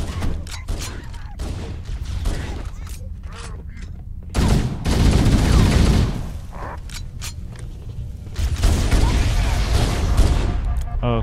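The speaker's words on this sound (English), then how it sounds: "Now I'll be giving you some cover fire." Halo CE Anniversary gunfire laying down cover fire in co-op play, loud dense bursts of shots and booms that come and go, with players talking over them.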